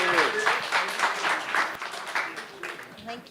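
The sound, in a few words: audience applause for speaker Naledi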